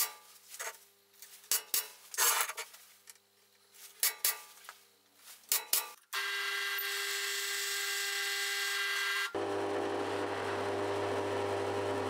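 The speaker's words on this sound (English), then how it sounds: "that is where we're going to drill the fixing holes" Metallic clinks and taps give way to a power drill whining steadily through metal while drilling fixing holes in a monitor wall bracket, its pitch dropping as the bit bites in.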